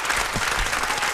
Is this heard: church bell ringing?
no